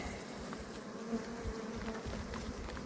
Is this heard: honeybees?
yes